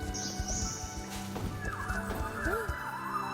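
In the Star Stable Online video game, a horse gives a short whinny and its hooves clop over soft background game sounds, fairly quiet and with no talk.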